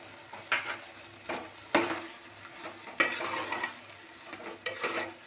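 Carrot halwa with ghee is stirred in a pan with a spoon: repeated scraping strokes come at an irregular rhythm, about one every second, over a soft continuous sizzle, close and clear with no talking.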